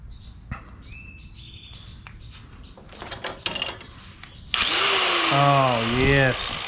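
A small electric motor, spliced with wire nuts during hood and fender work, whirs up loud after being plugged in, following quieter handling noises and brief clatter.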